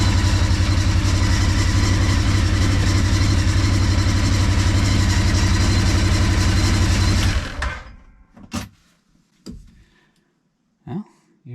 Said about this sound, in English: with the engine running, it shows green